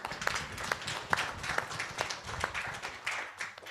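Sparse, quiet clapping at a training session, a handful of distinct claps spaced roughly every half second over a soft, low background, fairly faint.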